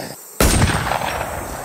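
A single sharp gunshot from a WarZ firearm cracks loud and close after a brief quiet moment, then its echo and rumble trail away.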